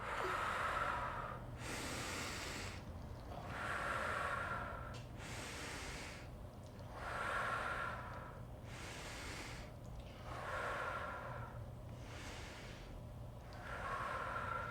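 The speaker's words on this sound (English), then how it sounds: "So we breathe in and out." Slow breathing in and out during a mindful breathing exercise, close and soft, with six or seven even, airy breath cycles at a steady rhythm over a quiet background and no talking.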